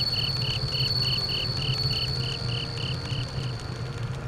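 Crickets chirp in a steady, evenly spaced pulsing trill over a soft night ambience in a Japanese summer-countryside video game, with no talking.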